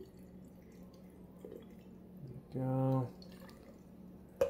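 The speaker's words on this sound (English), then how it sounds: "We'll just fill the water to the top here." Water is poured into a cup for filling a coffee maker: a short, close splash whose pitch rises as the cup fills, set amid quiet room tone and a voice.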